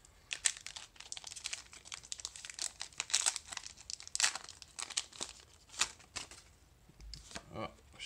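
A Pokémon trading card booster pack from the Lost Thunder set is torn and crinkled open up close, its foil wrapper giving sharp repeated rips and crackles that stop and start over several seconds.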